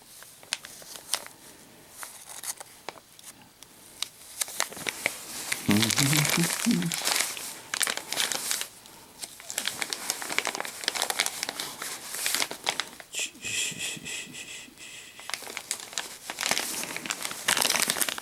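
A plastic bag holding a cleaver knife and a desiccant packet crinkles and crackles as it is worked open by hand, with loud bursts of rustling and a person talking in between.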